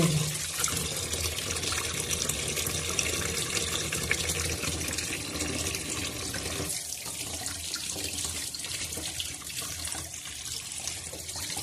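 Steady running tap water splashing into a sink while mackerel is rinsed underneath, continuous and close throughout.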